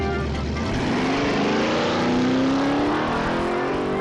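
Drag race between a Camaro and a Pontiac Arcadian: loud, sustained engine roar with rising pitch as both cars accelerate down the strip, steady and close throughout.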